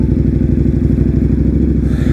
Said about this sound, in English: motorcycles, to my understanding, they just fly on this road